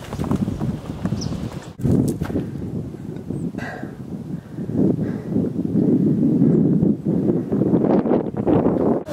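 Donkeys carrying heavy loads on their backs plod along a path on Isla del Sol by Lake Titicaca, Bolivia, their hooves clopping steadily and close by under gusts of wind noise.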